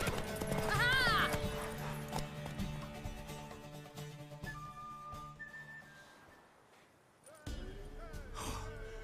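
Horse sounds from The Witcher 3: Wild Hunt, with hooves clopping and a brief whinny or snort early on, set among game music and other effects, with voices talking at moments.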